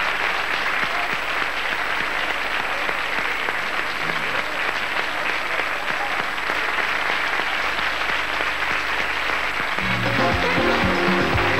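Studio audience applauding a game show contestant, steady dense clapping throughout, with music joining near the end.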